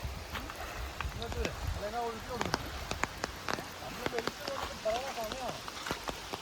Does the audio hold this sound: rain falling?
yes